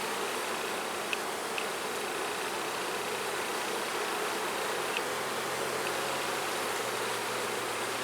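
Honey bees swarm around an open hive as frames of honey are lifted out, their steady, dense hum filling the air continuously and fairly close, with a few individual bees zipping past, no voices heard.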